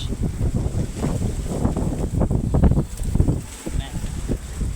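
Strong wind gusts blow outdoors near trees as a Kalbaishakhi storm darkens the sky, buffeting the microphone with a loud, continuous low rumble throughout while a person talks over it.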